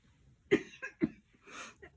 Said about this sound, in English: Hold on, I'm coughing.